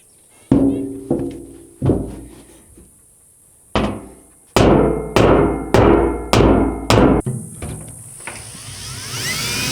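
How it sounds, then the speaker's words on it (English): Repeated heavy hammer blows flattening metal during a cabin build, about a dozen sharp strikes, some spaced out, then a quick run of evenly timed hits, loud and close. "I'm gonna hammer this out and try to get it flat"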